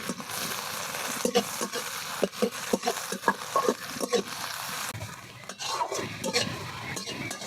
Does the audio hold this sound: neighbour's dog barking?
no